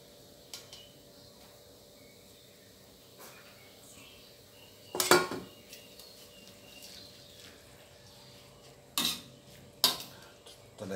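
Jade noodles and pork are blanched in a pot for hot tom yum noodles, with a few sharp metal utensil clanks against the pot over a quiet steady background hum, close by and sparse.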